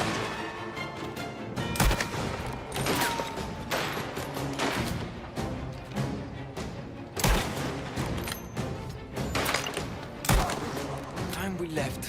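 Gunfire from a fairly accurate gun in Mafia: The Old Country, with loud separate shots cracking at intervals over dense battle noise while someone talks.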